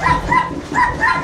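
A Pomeranian at a kennel gives a short run of high, yappy barks and whimpers, close and fairly loud, three or four quick bursts.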